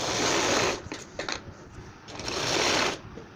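Sewing machine running along a petticoat drawstring, a close, loud whirring stitch in two sustained bursts separated by a brief pause with light fabric handling.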